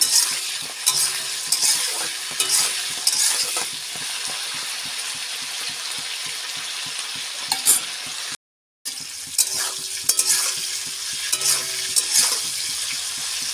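Cauliflower and Malabar spinach stalks fry in a pan, giving a continuous sizzle with frequent stirring scrapes and clinks, close and unbroken except for one brief cut to silence midway.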